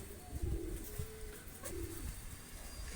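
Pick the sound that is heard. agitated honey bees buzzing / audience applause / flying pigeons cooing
flying pigeons cooing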